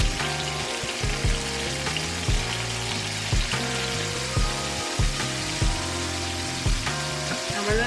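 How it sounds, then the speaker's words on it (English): Chicken pieces for tikka masala fry in a pan with a loud, steady sizzle and crackle, the hiss continuous and close throughout with no talking over it. "Now you want to fry these up until they're golden brown."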